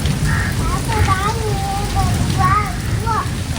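Steady rain falls in a dense, close hiss that runs throughout, while high-pitched children's voices and chatter sit over the downpour.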